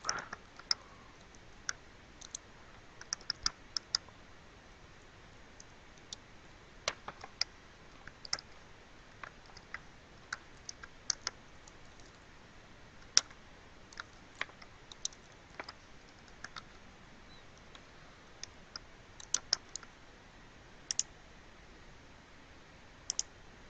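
Keys tapped on a computer keyboard while entering an IPv4 address into network connection settings, a quiet, irregular run of light clicks with pauses, close and soft, no talking.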